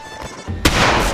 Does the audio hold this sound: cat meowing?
no